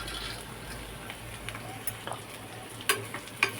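Quarter kilo of bitter gourd pieces, seeds included, frying in a pan while being stirred: a soft, steady sizzle with occasional scraping clinks, faint and close.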